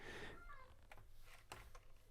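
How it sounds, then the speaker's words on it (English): A cat meows in the background, a couple of short, faint cries at the start followed by soft clicks and rustles in a quiet room. "My cat's meowing in the background, quite loudly."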